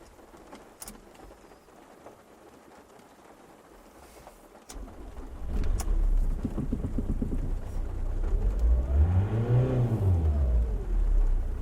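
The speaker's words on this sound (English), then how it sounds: "I'm just going to clear all the fault codes and then just try and start the car." A Jaguar X-Type diesel, just fitted with new injectors and with its fault codes cleared, cranks and fires after a quiet stretch, then settles into a loud, close idle and is revved up and down in a couple of rising and falling sweeps.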